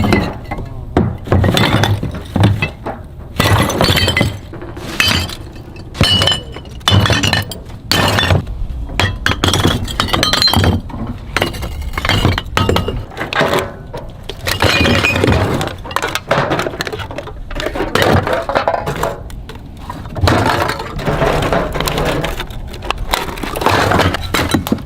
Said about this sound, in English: There's broken glass everywhere.